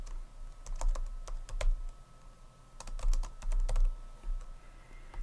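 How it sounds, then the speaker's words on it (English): Fast, close computer keyboard typing comes in quick bursts of clicking keys, broken by short pauses, with no talk over it. "Now when I start typing"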